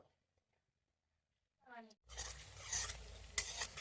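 Fried lentil dumplings for rasbora are stirred in a sizzling pan: after near silence and a brief voice, a close sizzle starts with scraping stirs and a sharp clink.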